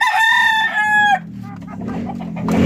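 A Peruvian rooster lets out a loud, close crow, then hens and chicks keep up a softer, busy clucking and murmuring.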